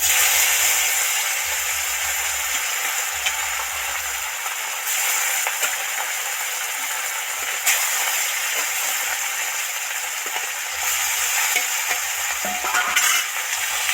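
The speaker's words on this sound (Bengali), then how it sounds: "মাছগুলো সব ডিপ ফ্রাই করে ভেজে নিলাম" Pieces of katla fish deep-fry in hot oil with a loud, dense, continuous hiss and crackle that fills the whole stretch, close up and steady, with faint low rumbles underneath.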